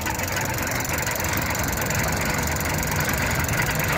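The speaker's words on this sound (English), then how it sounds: "So here's the rig powering the wheel on 12 volts." A 12-volt bicycle booster test rig drives a wheel, giving a loud, steady, close mechanical whir and drone with a faint squeal, running continuously without any talking.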